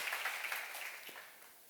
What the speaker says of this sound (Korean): 믿는 사람만 박수 한번 쳐보세요